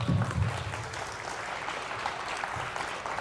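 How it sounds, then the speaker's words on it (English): Round of applause during a livestreamed tablet showcase, a steady patter of clapping at moderate level from start to finish, with a brief voice near the beginning. "Round of applause."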